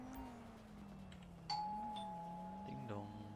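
Doorbell in a police video game, a ringing electronic chime with sustained tones whose pitch steps and shifts, heard fairly quietly with a voice talking alongside it.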